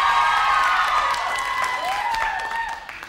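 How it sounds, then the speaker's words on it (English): An audience at a children's basketball game-show event applauds and cheers in a brief burst, with clapping mixed with raised young voices and crowd noise. "A round of applause for the black team."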